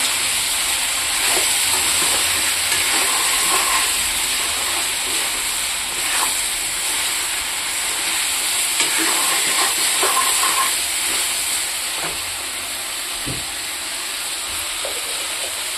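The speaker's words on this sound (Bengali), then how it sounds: "মাংসটা একটু তেলে ভাজবো" Chicken meat frying in oil in a pan, a loud, steady hissing sizzle with occasional stirring clicks, continuous and close with no talking.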